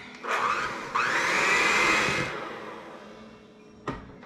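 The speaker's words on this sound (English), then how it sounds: "We have our eggs mixed in with our shortening, which I used Crisco." An electric hand mixer whirs close by as eggs are beaten into Crisco shortening for banana bread, a loud sustained drone for about two seconds that then fades, followed by a brief clack near the end.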